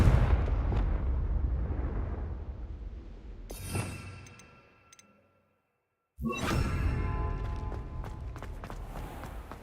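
A Confringo fire spell is cast in Hogwarts Legacy, giving rumbling, explosive blasts with crackling debris, a fading tail into silence, then another loud burst and crackle that carries on to the end.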